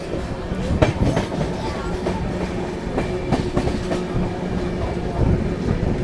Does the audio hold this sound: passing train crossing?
yes